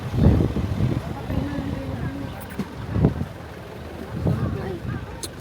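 Outdoor wind in Tagaytay buffets the microphone with a steady low rumble and gusts that swell and ease, while people chat nearby.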